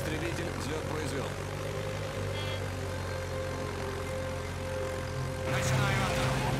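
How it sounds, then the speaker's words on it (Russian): A continuous roar of a fighter jet taking off from an aircraft carrier in a video game, steady and loud, with a brief swelling whoosh near the end. "Истребитель взлет произвел."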